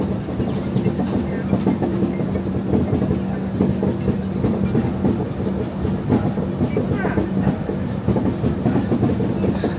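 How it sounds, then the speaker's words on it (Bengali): A train pulls into Kamakhya station near Guwahati, a loud continuous rumble with rhythmic clickety-clack of wheels over rail joints close by, alongside a low steady hum and some faint background voices. "এখন ট্রেন ঢুকছে কামাখ্যা স্টেশন।"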